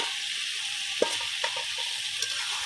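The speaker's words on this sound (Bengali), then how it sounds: "এই যে তেলটাও দিয়ে দিলাম, মাছগুলোও দিয়ে দিলাম, একটু কষাই নিব" Fish frying in spiced oil in a pan, a steady close sizzle with a few sharp pops and spatters standing out above the hiss.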